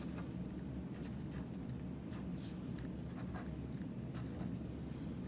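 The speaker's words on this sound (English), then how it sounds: "So I'm gonna go ahead and write in the first number, draw my lines." A pen scratches steadily while numbers are written and lines drawn on a place value chart, short faint strokes in an uneven rhythm, close up and quiet.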